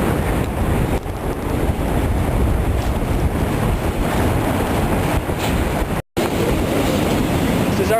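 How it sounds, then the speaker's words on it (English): A freight train passes a viaduct, heard as a loud, continuous rumbling roar, mixed with heavy wind buffeting the microphone during a bike ride. "but here comes another freight train."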